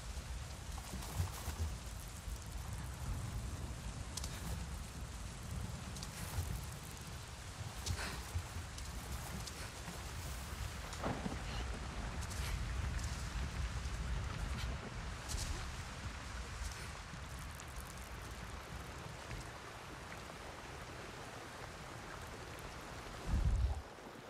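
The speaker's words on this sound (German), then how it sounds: "Oh, Regen." Rainfall in the video game Avatar Frontiers of Pandora, a steady patter of drops with occasional louder splashes, continuous and moderately loud throughout.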